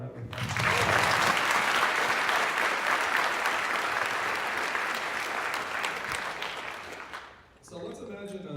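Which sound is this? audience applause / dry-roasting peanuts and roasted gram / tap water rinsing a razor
audience applause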